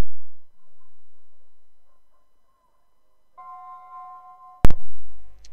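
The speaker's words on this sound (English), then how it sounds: "Harry Marshall has the bell now." A start bell at a show jumping competition rings as a clear sustained electronic tone, followed by a sharp loud click; the arena is otherwise quiet.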